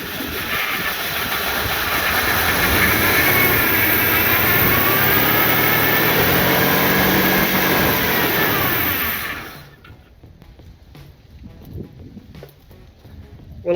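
A Ford XC Falcon Fairmont engine with a newly fitted carburettor idles loudly and steadily with a hissing roar, then cuts off abruptly, leaving near-quiet with faint rustling.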